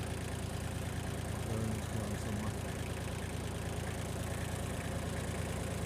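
A tractor engine idles nearby in a vegetable field with a steady low rumble and faint knocking, running continuously; no talking is heard.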